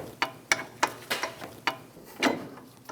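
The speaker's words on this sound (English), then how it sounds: "Snug the bolts down." A ratchet snugs down caliper bracket bolts on a 2001-2006 Chevrolet Silverado 2500 HD during a front brake job, giving about ten close, sharp clicks in an uneven rhythm.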